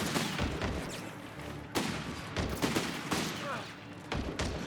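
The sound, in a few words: machine gun fire in video game Company of Heroes 3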